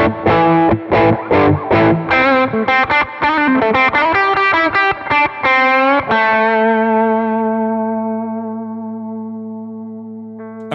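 Distorted electric guitar through an amp simulator plays a quick run of choppy chords and notes, then lets a final chord ring out and slowly fade with a reverb tail.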